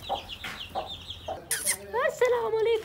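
A hen clucks repeatedly at a farm where goats are also kept, sounding close and fairly loud in short, uneven bursts, with a higher squawk near the end and people talking faintly at times.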